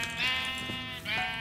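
A sheep in a Minecraft Mineplex arcade game gives two nasal, wavering bleats in quick succession, fairly clear against faint background game sound.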